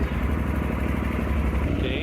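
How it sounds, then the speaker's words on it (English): A Yamaha Super Tenere motorcycle being restored rumbles with a steady low engine drone, loud and close, running evenly with a speaking voice over it. "so we will start the engine and see how."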